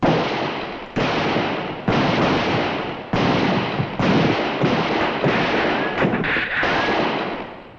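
A western TV shootout with revolvers fires about seven loud, sharp shots spaced roughly a second apart, each followed by a long echoing ring. Near the end, faint whistling ricochets come through.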